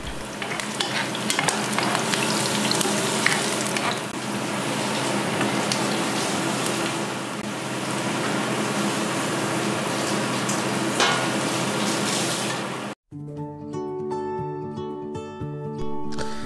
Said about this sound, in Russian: Наливаем в сковородку где-то 50 миллилитров масла и жарим наш чесночок.